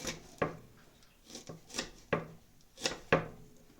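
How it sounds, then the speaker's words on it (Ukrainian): A red onion being cut into quarters on a board, six or seven sharp knife strikes spaced unevenly with soft rubbing between them, close and clear with no talk. "Я е, цибулю на четверо розрізаю і так беру."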